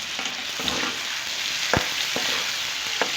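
Onions and half-boiled potatoes fry together in a pan, giving a steady close sizzle broken by a few sharp clicks and scrapes from stirring; no one speaks.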